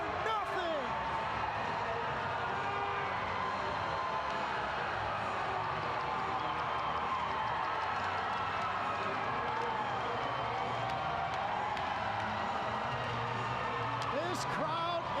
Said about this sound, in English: This crowd is going bonkers.